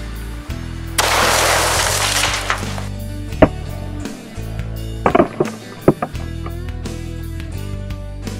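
A .45 Colt +P revolver fires at a block of ice outdoors, loud sharp cracks and shattering bursts punctuating a steady low background hum.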